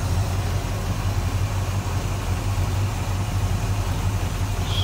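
A 1965 Pontiac Catalina convertible's 389 V8 with tri-power carburetion idles steadily, a smooth, even low rumble heard up close for about five seconds with no voices.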